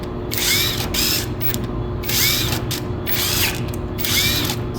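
A GoYwato 21V brushless cordless impact driver with a 1/4-inch hex chuck runs in reverse in repeated short bursts, a loud buzzing whir with rapid ratcheting hammer clatter, each burst rising and stopping.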